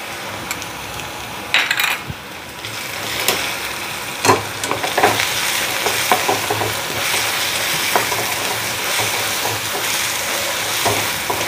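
Baby potatoes roasting in a pan, with a steady crackling sizzle throughout and scattered clinks and scrapes of a spoon stirring against the metal, close and moderately loud with no talking.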